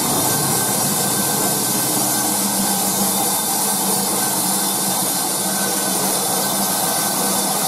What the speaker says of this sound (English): This place here actually has a bandsaw.